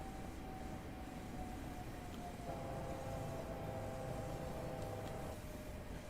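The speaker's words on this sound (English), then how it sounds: "Southern service now departing to our left" A Southern train service pulls away in Train Sim World 2021 on a Rainham to London Victoria route, a steady rail rumble with a sustained tonal whine that rises partway through, heard without speech.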